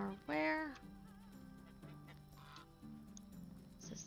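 Geese in the Medieval Dynasty video game honk near a farm settlement: one loud, bright honk early, then softer repeated calls over a low game background with no talk.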